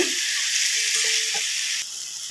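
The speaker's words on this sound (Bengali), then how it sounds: "খুব ভালো করে ভেজে নিয়ে আমি জলটা দিয়ে দেবো, নেড়ে চেড়ে ভালো করে ভেজে নেব" Washed Gobindobhog rice fries and is stirred in a pan, giving a loud, steady sizzle with faint scraping, heard alone.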